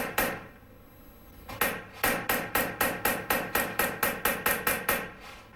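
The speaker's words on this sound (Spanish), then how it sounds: "Trabajando la cara interna con una punta roma y un martillo, se sacan los relieves de la pieza." A hammer strikes a blunt punch against a metal sheet in repoussé work, sounding as a steady run of about a dozen sharp, ringing metallic blows at a quickening even pace, close and loud.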